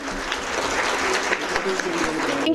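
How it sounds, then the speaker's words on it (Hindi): Parents clap loudly at a school annual function, a dense, steady applause that carries on through the moment at close range with no pauses. "बार जोरदार तालियां हमारे नन्हे मुन्ने बच्चों के लिए।"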